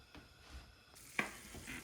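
Butter goes into a frying pan and is stirred: a faint, low sizzle runs throughout, with a soft scrape and a sharp clink just past the midpoint.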